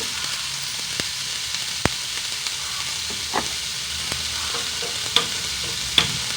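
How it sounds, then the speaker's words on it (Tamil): Chopped onion tempering in hot oil in a pan for pasipayaru dosai, a steady soft frying sizzle with occasional sharp pops and crackles, close and alone. "தாளிச்சுக்கோங்க."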